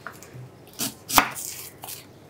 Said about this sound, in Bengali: পেঁয়াজ কাটা দেখাচ্ছি, এই জন্য পেঁয়াজটাকে খুবই চিকন করে কেটে নিতে হবে।